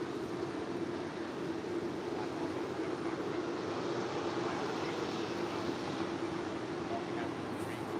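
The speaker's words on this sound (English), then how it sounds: "United Airlines Flight 1712 at the 757-300" A United Airlines Boeing 757-300 arriving at LAX from Chicago O'Hare produces a steady, distant jet roar, unchanging throughout, with a voice faintly present.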